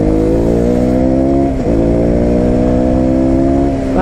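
Bajaj Pulsar RS 200 motorcycle with an aftermarket exhaust revving hard and close, a loud continuous engine note that climbs, dips briefly, then climbs again, with no voices.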